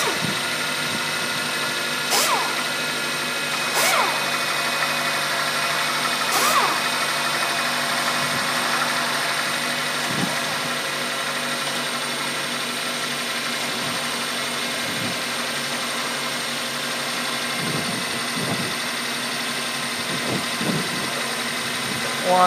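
A 2002 Toyota Corolla with a 1.8 engine idles steadily and evenly for over twenty seconds, a constant hum with a few sharp ticks and faint background sounds.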